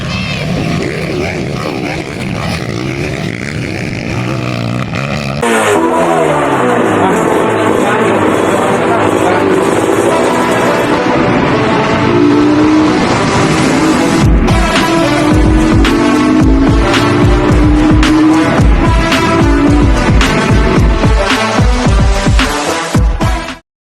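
Pit bike motorcycles racing in a motocross heat, the first moto of the pit bike category: loud, continuous buzzing engines with rising and falling revs as bikes pass. Speech is mixed in.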